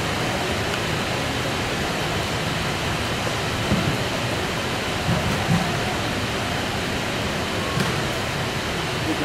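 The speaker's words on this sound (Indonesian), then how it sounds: "Hujan makin gede aja nih hujan" Heavy rain falls steadily during an outdoor Persib Bandung football training session, a dense continuous wash of noise throughout with a few faint thuds underneath.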